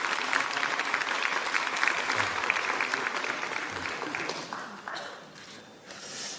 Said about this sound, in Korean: 우리 격려의 박수 한번 부탁드립니다.